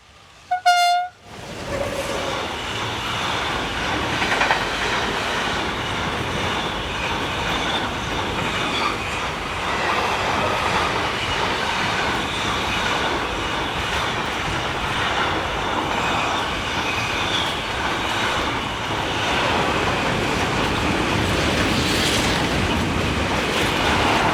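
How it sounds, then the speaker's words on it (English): A freight train hauling swap bodies and a few tank wagons rolls past on the Lyon-Sibelin to Bordeaux line. A brief horn blast sounds at the start, then a steady, loud rumble of wagons and wheels continues throughout. "This train is the daily connecting freight service from Lyon-Sibelin to Bordeaux, conveying mainly ambrosia swap bodies from Italy and a few tanks."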